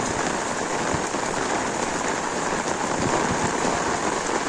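Steady rain pours down in a dense, even hiss with scattered drop impacts, continuous and fairly close, with no voices, at a flooded Kopar railway station in Dombivli East.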